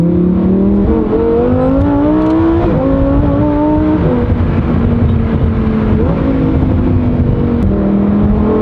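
Lamborghini Huracan STO engine revving at a car meet, loud and close, with rising pitch sweeps as the revs climb and drop several times across a sustained high-pitched roar.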